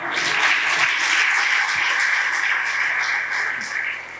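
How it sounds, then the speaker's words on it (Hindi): A church congregation claps loudly during a pastor's sermon, producing a dense, sustained wash of hand claps from many people. It stays strong throughout and tapers slightly toward the end. "जोरदार ताली बजाएं।"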